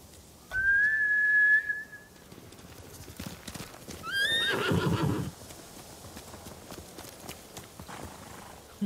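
Samurai horses in Ghost of Tsushima, trained to return to their masters, give two loud, whistling whinnies a few seconds apart, with faint hoof clip-clops and ambient game sound between them and no talking.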